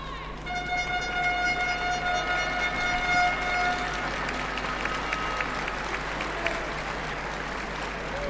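Crowd applause and cheering in a judo arena at the Grand Slam Düsseldorf, a steady broad wash of clapping that holds for the whole stretch, with a loud commentator's voice and some whistle-like tones running over it.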